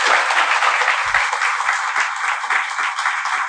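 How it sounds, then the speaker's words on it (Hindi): Loud, dense applause from a crowd at an event honouring Om Prakash, selected for the Air Force, steady clapping throughout with a few low thumps. "तो एक बार जोरदार तालियां"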